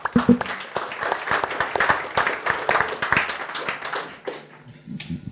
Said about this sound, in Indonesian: mari kita sambut mereka dengan tepuk tangan.